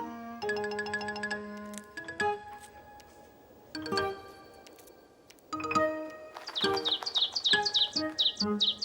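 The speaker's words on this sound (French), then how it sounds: "Le petit oiseau se jeta immédiatement sur les miettes et les avala les unes après les autres." Cartoon sound effects for a small bird pecking up bread crumbs on snow: repeated bright ding-like plinks in quick bursts, then a cluster of high chirpy tweets near the end, fairly close and clear with no talk.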